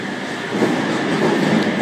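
A Sydney Trains electric train at Martin Place underground station, a steady loud rumble of rolling stock filling the platform, swelling slightly midway with no talk.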